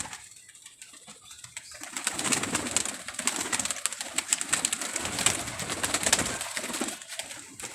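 Pigeons at a pigeon club loft coo and rustle, with bursts of wing flapping, continuous close bird activity building after a quiet start.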